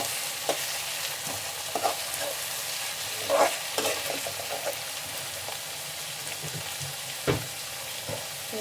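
Tomatoes frying in a pan over golden-browned onions for a traditional huli anna, with a soft continuous sizzle and occasional spoon scrapes and taps while stirring.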